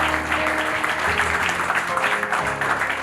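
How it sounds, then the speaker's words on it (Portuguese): Diners at a tribute dinner for a congress applaud together, steady crowd clapping under a low hum of voices and background tones. "Isso eu acho que eles merecem um grande aplauso"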